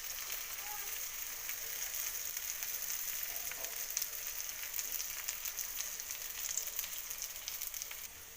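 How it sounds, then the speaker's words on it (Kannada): Raw banana slices frying in oil over a low flame, giving a steady, fairly quiet bubbling sizzle with fine crackles running throughout, no speech. "ಲೋ ಫ್ಲೇಮಲ್ಲಿ ಇಟ್ಕೊಂಡು ಬೇಯಿಸ್ಕೊಳ್ಳೋಣ."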